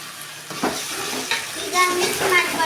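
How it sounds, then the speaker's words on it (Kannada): Chicken biryani masala with tomatoes being stirred and fried in a pan gives a close, continuous sizzle broken by intermittent scraping strokes of a spoon, with no talking. "ಈಗ ಮಿಕ್ಸ್ ಮಾಡ್ಕೊಳ್ತೀನಿ"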